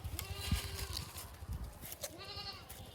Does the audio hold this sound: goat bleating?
yes